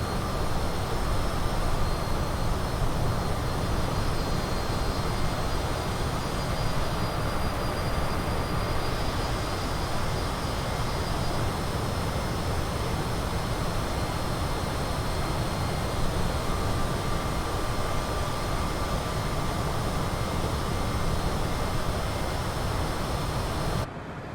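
Twin jet engines of a CJ4 business jet in Microsoft Flight Simulator roar steadily as the aircraft accelerates toward cruising speed, a constant broad loud drone with a faint high whine that holds for the whole stretch.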